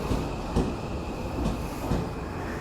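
An Odakyu Romancecar train runs slowly toward its last stop at Shinjuku, a steady rumble of wheels and motors heard from inside with a faint high whine and a few soft rail clicks.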